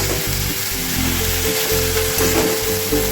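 Nigella seeds sizzle and crackle loudly in hot oil with a steady dense frying hiss, close up and continuous, with faint scraping stirs underneath.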